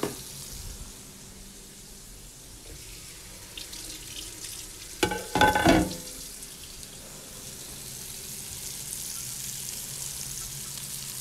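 Chicken fries steadily in a pan with a continuous low hiss, while a brief cluster of louder clattering and sizzling bursts rises in the middle.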